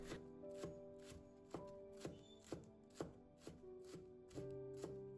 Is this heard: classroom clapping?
no